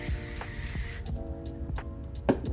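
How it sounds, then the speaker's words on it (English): A spray bottle mists hair during a silk press, a short breathy hiss up close in the first second, followed by quieter handling sounds. "We're gonna actually just mist the hair."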